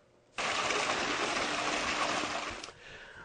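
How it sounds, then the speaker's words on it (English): Water from a swimming pool slide's water stub-up suddenly gushes on, a strong, steady rushing flow close by that runs for a couple of seconds before dropping away. "here's a waterfall running from our stub up"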